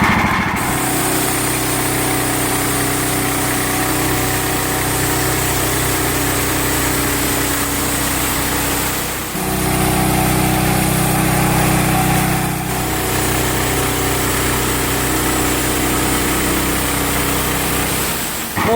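A sawmill engine runs steadily at high pitch while the blade cuts bark off a log, with a brief dip near the middle and the load shifting as the cut goes on. No one speaks over it.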